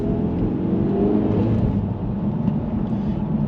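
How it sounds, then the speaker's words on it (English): A 2024 Acura Integra Type S engine and exhaust give a steady, low, throaty drone while driving, with a continuous rumble and no talk over it. "The exhaust note is great."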